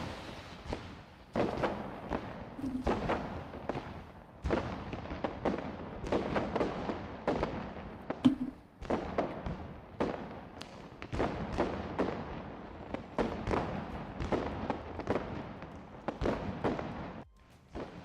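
Fireworks in an iClone animation, rendered as a long run of dense, crackling bursts and dull thumps that keep going steadily, heard fairly faint and with no one talking.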